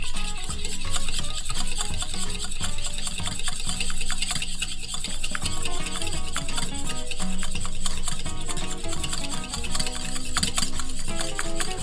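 A whisk or spoon beats homemade mayonnaise in a bowl while olive oil is added slowly, making a quick, steady scraping and clicking rhythm close up for the whole stretch, with no voices.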